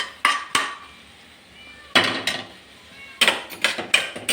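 Jackfruit stir-fry for kadachakka mezhukkupuratti being tossed in a pan gives sharp metallic scrapes and clinks of a spoon against the pan in irregular bursts, close and fairly loud, with short quiet gaps.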